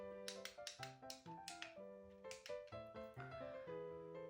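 Buttons on a remote control are pressed repeatedly, each press giving a sharp tapping click layered with bright, tonal chiming beeps in a quick, uneven rhythm.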